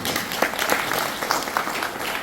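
An audience at the opening ceremony of an academic forum marking 160 years of Koryo-saram and Korean migration claps together, a fairly loud, steady round of applause with individual claps standing out, no talk over it.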